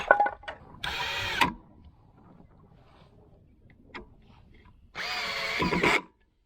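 A power drill drives thick screws into a wooden brace in two close, loud whirring bursts about half a second to a second long, with quiet handling noises in the pause between.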